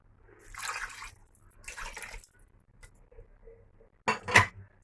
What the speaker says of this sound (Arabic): دابا غادا ندير شويه ديال الماء